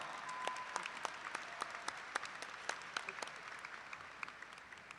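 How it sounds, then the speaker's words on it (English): An audience at a university commencement claps steadily for several seconds, a dense, even wash of applause heard from a little distance with a few sharper individual claps. "Let's give him applause."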